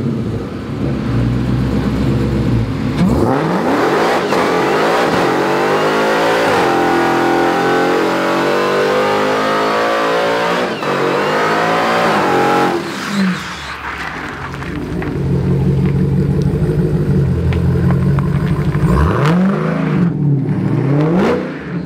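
A 1000hp car doing a tyre burnout: its engine roars loud and close, revving hard and holding high, dipping briefly midway, then climbing again with screaming, sustained power.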